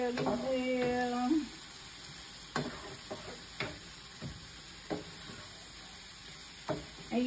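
Italian sausage meat with onion and garlic cooking in a pan gives a soft, steady sizzle, broken by scattered clicks and scrapes of stirring, with a brief tone near the start.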